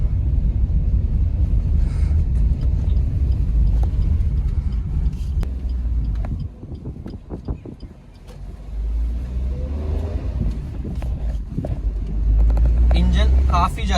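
A small car engine, a 2024 Maruti Alto K10, hums and strains under load climbing a hill in third gear, dipping briefly then rising again, steady and close, with someone talking over it.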